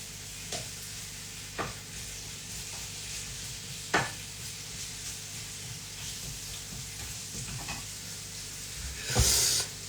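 Food sizzles and fries quietly in a pan, a steady low crackle with a few sharper pops and a brief louder hiss near the end.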